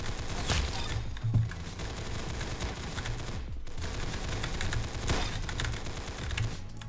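Rapid gunfire from a new gun in the Roblox game Arsenal, a steady dense stream of shots running nearly the whole time with brief dips, fairly loud and with no talking.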